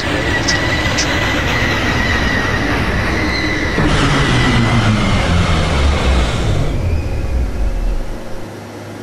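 An R10 Redbird D train in the OpenBVE train simulator game pulls into Fordham Road station, with a loud rumble of wheels on rails and screeching metallic squeals that fade as it slows to a stop.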